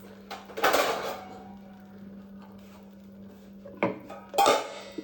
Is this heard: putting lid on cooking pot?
yes